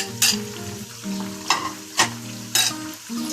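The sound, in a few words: chicken with garlic ginger paste frying in a pan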